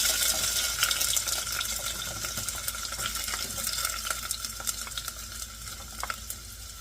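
Food sizzles and crackles in a hot pan while being stirred, a steady close hiss with scattered pops and scraping of a utensil, continuous throughout and without talk.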